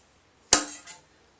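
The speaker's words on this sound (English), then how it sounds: "bangs now against the top one, and it's pulling it out of its seat along with the seal" A motorcycle fork bush bangs against the top bush as a regular-type fork seal is pulled out of its seat in a garage, giving one sharp metallic clack followed by a quick rattling rebound.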